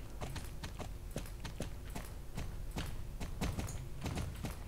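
Horse hooves clip-clop steadily in the online horse-riding game Star Stable Online, a regular walking rhythm of soft thuds heard alone and close throughout.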